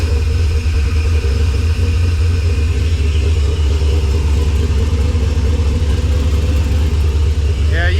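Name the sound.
Trail Bouncer engine started and idling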